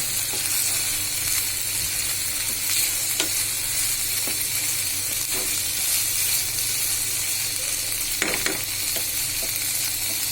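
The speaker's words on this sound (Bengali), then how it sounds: "হয়ে গেল আমার লটে শুটকি ভুনা" Dried loitta fish bhuna stir-frying in a pan gives a loud, steady sizzle throughout, with faint scrapes of a spatula now and then.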